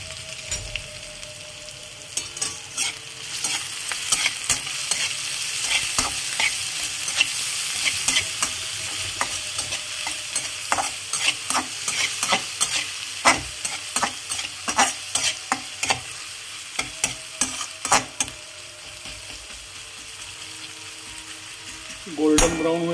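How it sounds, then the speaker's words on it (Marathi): Onion fries on medium heat in a pan with curry leaves, green chilies and garlic, a low steady sizzle broken by frequent scraping stirs of a utensil against the pan over the whole stretch. "गोल्डन ब्राऊन होईपर्यंत कांदा भाजून घ्यायचा आपल्याला मीडियम गॅसवरतीच"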